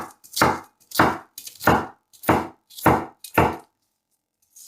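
Half an onion chopped finely with a knife on a board: six crisp, evenly spaced chops at about one per half second, close and distinct, then silence.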